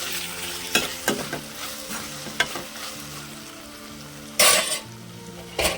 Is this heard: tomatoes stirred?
yes